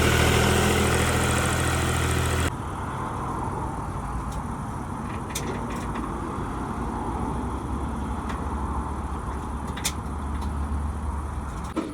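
A 2020 DW 244 AHTD tractor engine idles with a low, steady rumble, continuous, fairly loud and close, with a brief louder burst at the start and no talking.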